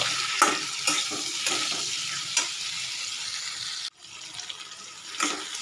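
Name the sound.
stirring and frying tomato with turmeric in a pan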